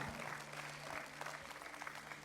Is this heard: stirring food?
no